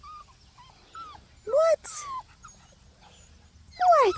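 Seven-week-old puppies whimper and yip in short, rising cries, a few scattered near calls and a louder one toward the end, while someone talks to them.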